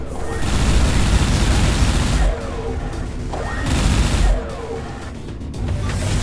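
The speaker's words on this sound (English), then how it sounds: "Fire all reserve torpedoes at once." A volley of reserve torpedoes launches all at once during a space battle in Everspace 2, producing dense, loud booming and rumbling blasts that swell, dip, and surge again in overlapping waves.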